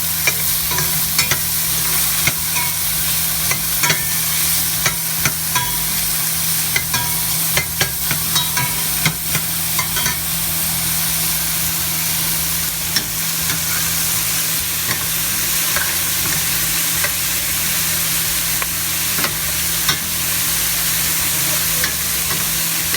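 Ground meat browning in a pot for green chile, a loud continuous sizzle with frequent stirring scrapes and clicks throughout, close up and without talk.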